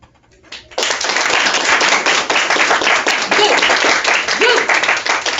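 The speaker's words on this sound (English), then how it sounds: "Everybody give a round of applause" Students in a high school calculus class burst into sudden loud clapping after a quiet start, the applause holding steady and dense to the end.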